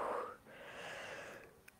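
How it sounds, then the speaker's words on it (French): A woman yawns up close, a breathy, drawn-out exhale that fades into soft airy breathing, alone without speech. "Je suis désolée, je vais faire que bâiller."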